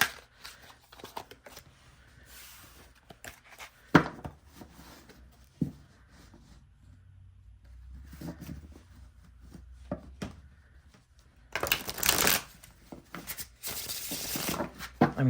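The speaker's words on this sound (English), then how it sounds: "it still shuffles beautifully." Tarot cards are shuffled in several close, crisp riffling bursts, with brief pauses and soft handling noises between them.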